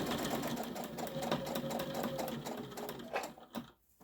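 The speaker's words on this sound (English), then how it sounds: "We're going to back tack so that we make sure that that first stitch is nice and secure in." A sewing machine back-tacking the first stitch on pot holder fabric, a close, rapid mechanical whirring that runs steadily, then falters and stops near the end.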